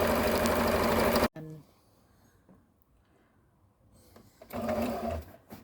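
A sewing machine stitches a straight seam through fabric for a Regency reticule, a loud steady mechanical whir that stops abruptly after about a second, leaves a quiet gap, then starts running again near the end.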